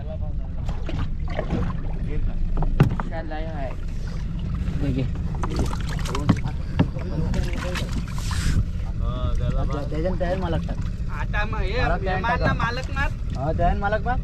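A fishing boat out on the deep sea off Mumbai, heading out for shark fishing, churns along with steady engine rumble, water wash and wind buffeting throughout while people talk over it.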